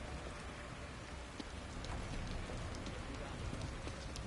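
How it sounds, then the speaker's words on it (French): Steady rain pouring in The Evil Within video game, a dense even hiss of drops on surfaces throughout, fairly faint and uninterrupted. "La pluie va faire disparaître tous les indices."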